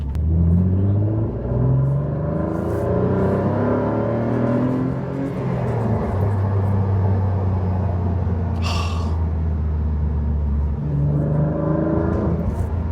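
Mid-engined Renault Clio accelerating through the gears, its engine rising and dropping in pitch with each shift, loud and continuous inside the cabin, with a brief hiss midway.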